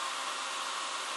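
Steady, loud broadband whoosh of a handheld hair dryer heating a shoe sole coated with glue, running continuously at close range with no pauses and no voices.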